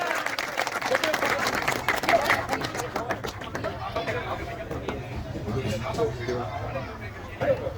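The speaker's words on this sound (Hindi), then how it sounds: "आप लोग तालियां कम बजा रहे हैं, जोरदार तालियां" Village audience at a Holi singing performance applauding, a steady dense clapping mixed with crowd chatter and babble throughout, moderately loud and spread out.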